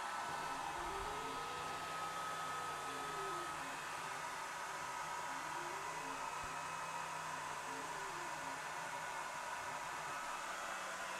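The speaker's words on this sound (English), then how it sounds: "Okay, so now I'm going to try cutting. I'm going to be cutting a circle." An 18W diode laser engraver and cutter cuts a circle at slow speed and 70% power, giving a steady, loud whirring fan-like hiss with faint repeating tonal sweeps as the head traces the round path, with no talk.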